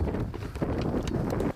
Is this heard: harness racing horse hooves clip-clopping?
yes